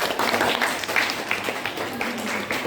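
Classroom applause from students after a chemistry lesson on reaction rates, a steady patter of hand claps filling the room for a few seconds with some voices mixed in.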